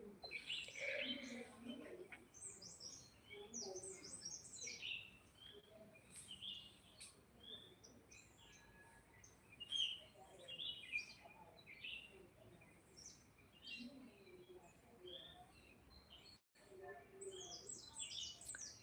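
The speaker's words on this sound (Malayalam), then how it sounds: "ഉണ്ട് കിളികളുടെ ശബ്ദം അത് ആ മാവിൻ്റെ മുകളിലാണ് കിളികളുള്ളത്" Several birds chirp and tweet in quick, scattered bursts from up in a mango tree in Wayanad, fairly faint against a quiet outdoor background.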